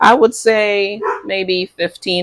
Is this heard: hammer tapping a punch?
no